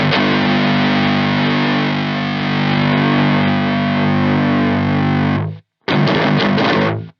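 Electric guitar played through a Demonfx Precision Drive pedal set as a distortion, a loud, thick sustained chord ringing for about five seconds, then a brief gap and a short burst of strummed notes.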